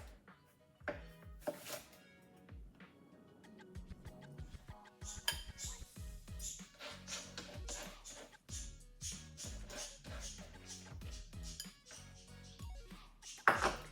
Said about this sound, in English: now I'm going to slice some onions, and I'm going to slice these julienne